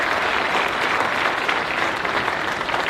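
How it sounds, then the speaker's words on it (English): An audience at an athletic recognition ceremony applauding a Hall of Fame member, dense sustained clapping from many hands filling the room, loud and steady throughout. "you got to get a big round of applause"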